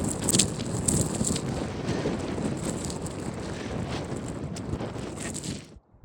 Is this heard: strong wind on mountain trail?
yes